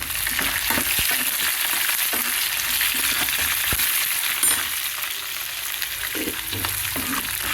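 Ginger pieces and green chilies frying in hot oil with a curry-leaf tempering: a continuous close sizzle, with a few soft knocks as a spoon stirs, and no one speaking.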